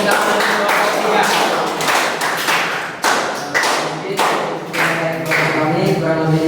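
An audience at a school presentation claps for the third presenter, with sharp irregular hand claps and thuds over a voice speaking throughout.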